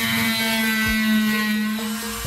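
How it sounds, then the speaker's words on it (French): A plaster saw cutting through human skull bone during a forensic autopsy, a loud continuous high-pitched mechanical whine with steady tone and faint low thumps beneath. "Je commence par retirer l'os crânien à la scie à plâtre."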